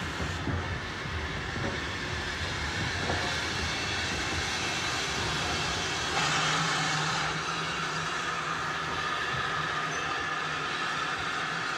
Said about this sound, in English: Dougal Drummond's T9 class, one of which works today on the old Swanage branch, now reopened as the Purbeck line.